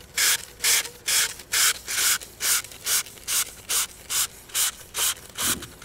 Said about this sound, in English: make sure that you've got them well sanded